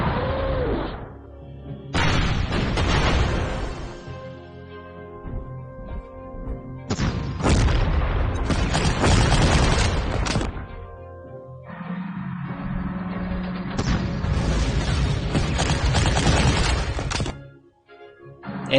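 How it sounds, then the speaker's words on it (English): Artillery fire in the World War II strategy game Panzer Corps, set at Kharkov: loud booming, crashing blasts in several separate bursts, each sustained for a few seconds, followed by a brief quiet near the end. "Draw the artillery fire."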